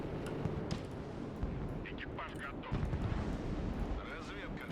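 A nuclear blast in the real-time strategy game Broken Arrow rolls out as a long, dense, rumbling roar that holds steady for several seconds, with someone talking over it.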